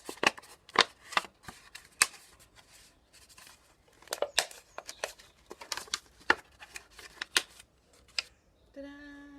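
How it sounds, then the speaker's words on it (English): Paper being folded out into the wings of a recycled-paper bird sculpture makes a run of crisp, irregular crinkles and rustles, close and fairly loud, ending in a brief tonal sound. "then you fold out these wings"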